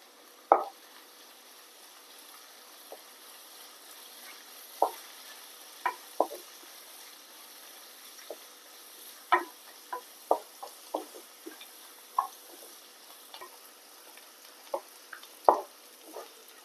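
Curry leaves dropped into hot oil for a fish curry crackle with sparse, irregular pops and ticks over a faint, steady background hiss, quiet and close, with no talking.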